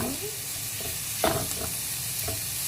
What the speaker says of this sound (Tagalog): Mix natin ang ating pork. Gisa-gisahin.